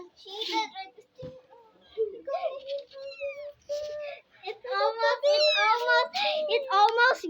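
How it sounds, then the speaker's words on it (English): A baby kitten meows repeatedly in high, wavering cries, close and clear, mixing with children's excited voices chattering around it indoors. "the baby kitten's so cute now"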